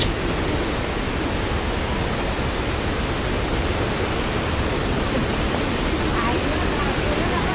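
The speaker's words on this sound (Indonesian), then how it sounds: "Suara gemuruh air terjun yang semakin jelas terdengar" The Telun Berasap waterfall pours down a 50-metre rock cliff, giving a loud, steady, unbroken roar of rushing water that fills the whole stretch.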